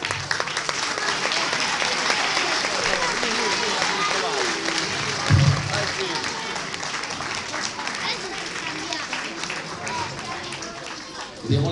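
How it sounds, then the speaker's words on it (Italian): An audience in a Sassari show hall applauds to welcome cavaliere Pinuccio Mallus onto the stage, with steady, dense clapping that fills the whole stretch and rises briefly midway, with crowd noise mixed in. "vi pregherei di accogliere con un grande applauso il cavaliere Pinuccio Mallus"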